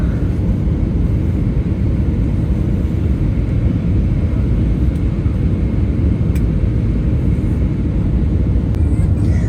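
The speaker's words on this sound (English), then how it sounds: "Now time for approach and landing into Adelaide" Inside the cabin of a Jetstar Airbus A320-200 on approach and landing into Adelaide, a loud, steady engine and airflow roar fills the whole stretch, with a few faint clicks on top.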